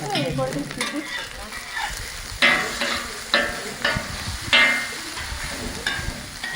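Egg dosa fries in oil in a pan with a close, continuous sizzle, broken by a regular series of scraping, stirring strokes about once a second.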